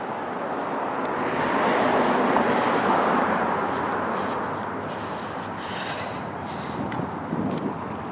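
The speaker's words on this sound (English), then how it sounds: "Is that the subway underneath my feet" Subway train rumbling underground beneath Yonge Street in Toronto, a broad steady low roar that swells in the middle and then eases, heard from the sidewalk above with faint street hiss.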